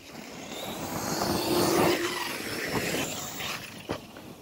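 An Arrma Kraton 6s radio-controlled car drives past outdoors. Its electric motor whine swells to a peak partway through, then fades. A short sharp knock comes near the end, with no clear talk.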